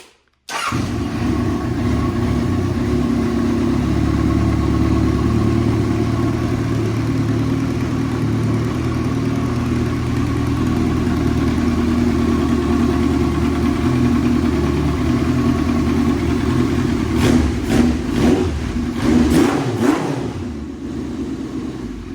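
A 1998 Kawasaki Voyager XII motorcycle engine cranks and catches, then settles into a steady, loud, throaty idle close by, ending with a few short blips of the throttle near the end.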